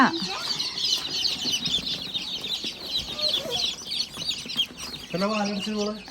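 Newly arrived chicks peep constantly in a high chorus near a hen, whose low clucks come through close at the end, outdoors in sunshine.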